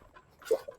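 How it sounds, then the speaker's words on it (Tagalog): Dogs beside a roadside bypass near a river give a short, soft burst of panting breaths with a faint whimper, close by and lasting under a second. "Ito may mga aso."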